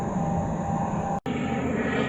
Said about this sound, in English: The plane! The plane!